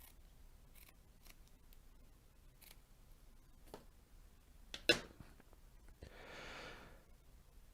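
Scissors cut a small piece of rubbery non-slip mat with a few quiet snips and one sharper, louder cut near the middle, close and isolated against soft room noise.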